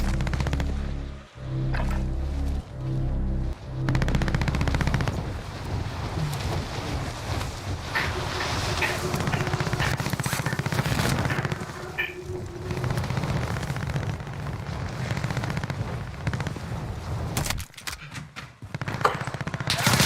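Rapid bursts of gunfire crackle against a dense, noisy battle background in the game Warzone, steady and fairly loud throughout, with a brief dip near the end.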